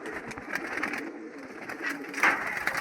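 A pigeon coos in soft repeated phrases at close range as it is released, with faint background noise around it.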